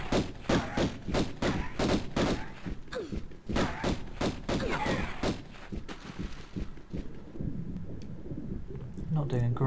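Gunshots in the video game Tomb Raider 1 Remastered, a run of sharp, punchy shots in quick bursts that thin out into scattered thuds, with someone talking over them throughout.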